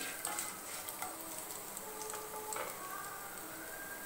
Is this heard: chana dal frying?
yes